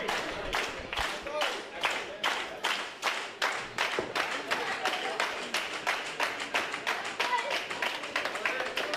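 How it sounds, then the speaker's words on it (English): A wrestling crowd in San Marcos claps in a steady, even rhythm, sharp rhythmic claps repeating throughout as appreciation during a women's match. "Our crowd here in San Marcos showing their appreciation."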